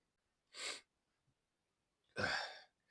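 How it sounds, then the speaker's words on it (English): Two sharp sneezes, well apart, with quiet between them, the second louder and fuller than the first. "just had a sneezing fit"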